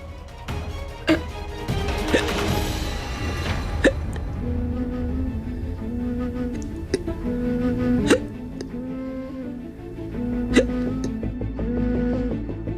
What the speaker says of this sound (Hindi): आपको तो हिचकियां आ रही है